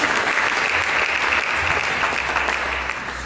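A church congregation breaks into loud, dense applause, many hands clapping together in a continuous roar that fades slightly at the close, with no voices on top.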